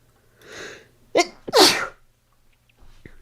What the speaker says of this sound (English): Man, I really am sneezing a lot.